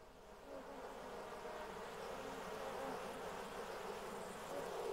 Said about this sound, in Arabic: عندما تخرج جموع العاملات من النحل لجمع العسل، تبقى بقية أفراد النحل داخل الخلايا